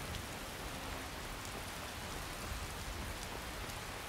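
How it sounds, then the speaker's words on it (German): Rain falls steadily in the video game Skyrim, a soft continuous hiss of drops on surfaces with no voices, faint and even throughout. "Und warum das hier so regnet, verstehe ich auch nicht."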